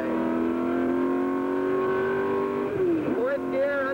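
A 1965 race car at the LA Times Grand Prix, heard loud and close with a steady engine drone that dips with a gear change near the end and then climbs again as it accelerates.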